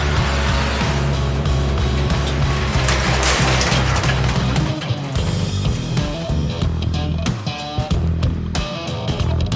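Trucks rumbling past along a road in cold weather, a loud, close, sustained roar of engines and tyres that swells and then breaks into choppier passing noise.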